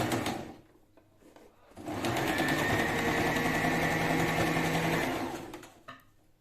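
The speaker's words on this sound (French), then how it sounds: "je vais faire un point zigzag" A domestic sewing machine runs a zigzag stitch along a folded fabric edge for a tote bag, opening with a few short starts before a steady, close, whirring motor drone of about three seconds, then winding down.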